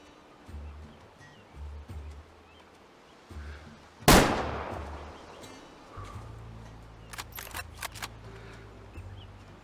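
A single sharp hunting rifle shot cracks out in the game Way of the Hunter and decays over an outdoor Transylvania backdrop of soft, wind-like ambience.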